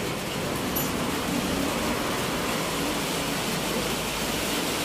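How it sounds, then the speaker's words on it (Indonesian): Heavy rain pours down steadily around a motorcycle repair workshop, a dense, even hiss that holds at the same level throughout with no voices. "Udah mulai deras hujannya."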